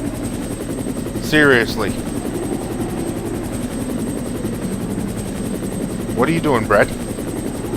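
A helicopter hovers with a steady rotor drone in Resident Evil Director's Cut on PlayStation 1, continuous under two short bursts of a voice speaking.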